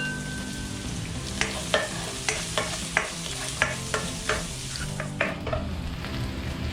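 Onions fry with garlic in a pan for squid adobo, a steady low sizzle broken by repeated sharp spatula taps and scrapes, near and moderately loud, no speech.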